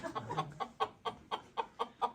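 Chickens cluck in a quick, regular series of sharp calls, close by and fairly loud.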